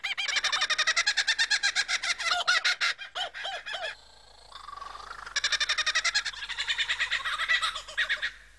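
A lyrebird mimics the calls of other bird species in the wild, producing loud, close bursts of rapid chattering and trilling phrases separated by brief pauses, varied in pitch and rhythm.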